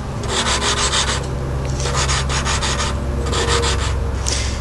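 An engine valve being lapped against its seat, giving a steady gritty rubbing grind in repeated back-and-forth bursts, close and loud with no talking.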